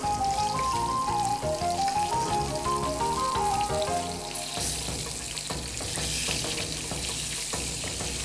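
Halved fish fries in hot oil, a constant crackling sizzle that carries on under background music, with bubbling spatter growing brighter and busier toward the end.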